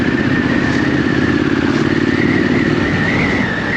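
A Triumph Scrambler motorcycle is ridden on the road, a loud steady engine drone with a constant throb and rushing wind noise, close to the rider and alone without talk.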